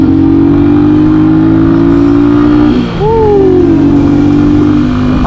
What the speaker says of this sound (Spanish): A pesar de que es un motor bien chiquito, sí corre bien endemoniada esta moto, ¿eh?